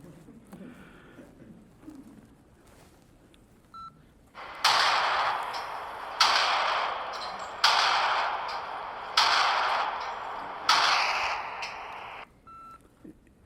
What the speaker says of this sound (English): How many have ever heard gunshots before?